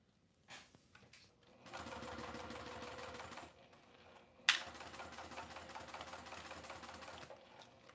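A sewing machine stitches fabric for a jumbo bag in two close bursts of rapid mechanical chatter, separated by a short pause and a sharp click, with quiet handling sounds before the first run.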